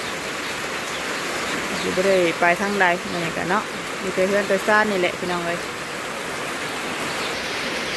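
Steady rain falls in an even, broadband hiss through the whole stretch, with someone talking over it in the middle.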